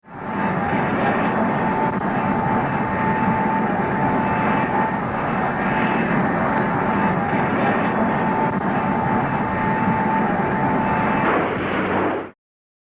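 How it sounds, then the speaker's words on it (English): A modified North American B-45 bomber takes off in 1955, its engines giving a loud, continuous roar with a steady high whine that holds for about twelve seconds before cutting off abruptly. "Historic footage captures the modified B-45's ascent on May 20th, 1955."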